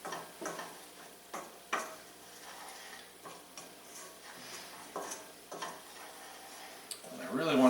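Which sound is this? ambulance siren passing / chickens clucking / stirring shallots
stirring shallots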